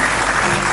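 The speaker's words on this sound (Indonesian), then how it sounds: "Tepuk tangan dulu dong buat dia" A burst of studio audience applause on a TV talk show, dense and steady clapping filling the whole moment, loud and close.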